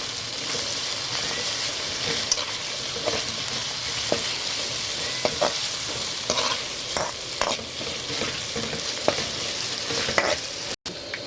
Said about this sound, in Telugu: పచ్చివాసన పోయేదాకా కొంచెం ముందు కలపండి.